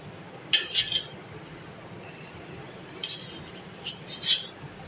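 Cream (malai) is scooped off milk into a deep vessel, a few light metallic clinks and taps of a utensil against the pot in irregular clusters over a soft steady background, no voices.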